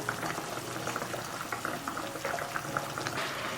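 Flower mushrooms simmer in mushroom water seasoned with oyster sauce, a little rock sugar and light soy sauce, giving a steady close bubbling and soft popping throughout, with no talk.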